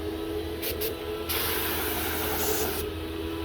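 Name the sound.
Graco HVLP paint sprayer spraying shutters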